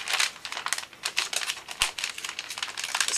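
Cellophane wrap crinkles and rustles as it is folded around a bunch of roses, sounding as rapid, close, crisp crackles in quick uneven bursts.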